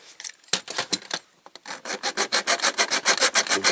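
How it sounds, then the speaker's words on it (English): A metal file rasps back and forth on a small Dinky Toys Bedford Pullmore car transporter part, close and crisp, starting in irregular strokes and settling into a fast, steady rhythm of repeated strokes. "I'll finish filing that and then we'll come back to it when I've drilled them out"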